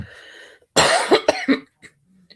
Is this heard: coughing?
yes